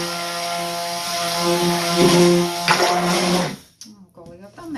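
An electric blender whirs loudly, mixing soap batter in a small jug, running steadily for about three seconds before cutting off, after which a person speaks briefly.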